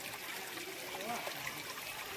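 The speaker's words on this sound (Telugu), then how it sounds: "ఇక్కడైతే జలపాతం వస్తుందండి. జలపాతం బాగా ఉంది చూడండి" A waterfall near Udaygiri gives a steady, soft rushing of water heard from a short distance, with a faint background voice under it.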